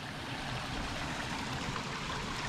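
Water of a small stream running from its source in rural Portugal, a steady close babbling flow with soft gurgling, alone without voices.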